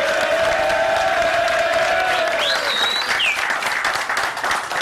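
Dense applause from a studio audience at a television show, steady and loud throughout, with a few whistles rising above the clapping.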